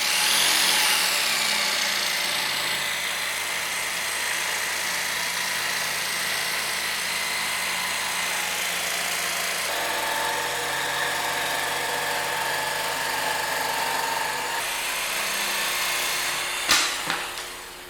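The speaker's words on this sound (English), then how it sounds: "we're going to use a jigsaw to cut these pieces out" A jigsaw cutting MDF leg pieces runs in a steady, loud buzzing whine for about fifteen seconds, pitch shifting slightly partway through, then stops with a brief clatter near the end.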